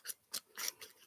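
Scissors snip through folded origami paper in five quick, close cuts with short pauses between them, crisp and alone with no talk.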